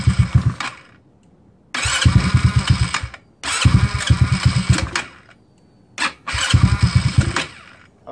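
A GY6 scooter engine is revved in repeated throttle bursts, each a loud, close, buzzing run lasting about a second, separated by quiet gaps where the engine nearly drops away.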